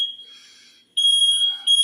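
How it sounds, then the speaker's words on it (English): A smoke alarm shrieks close by with a piercing high tone, sounding first more faintly, then briefly pausing, then blaring louder in repeated bursts. "the guy that just set the smoke alarm off"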